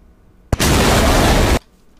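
Missile launch from a Blue team jet in DCS World, a single loud broadband whoosh bursting on abruptly and roaring steadily for about a second before cutting off sharply, close and alone.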